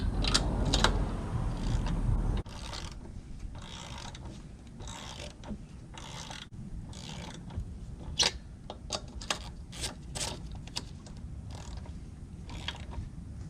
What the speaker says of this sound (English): Once you hear the gun ratchet that first time, that's your cue to go ahead and switch over to hand tools.